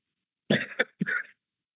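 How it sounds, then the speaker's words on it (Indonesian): A single quiet cough in two short bursts, close by, with silence before and after. "Maaf, ini saya batuk."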